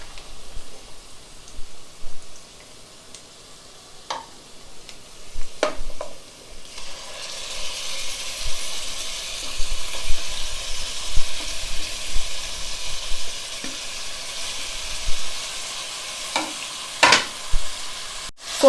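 Masala paste sizzling and frying in hot oil for a country chicken curry, with steady broadband crackle that swells after the paste goes in, broken by a few sharp scrapes and clinks of a spoon stirring the pan.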